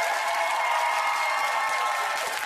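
A TV quiz studio audience applauds a school team as they leave the quarter-final, a steady dense wash of clapping filling the whole moment at even loudness with no voices.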